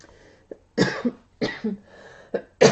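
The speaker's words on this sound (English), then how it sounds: "apparently I'm going to have a coughing fit" A run of harsh, close allergy coughs, about six bursts in a fit over a few seconds, with brief gaps between.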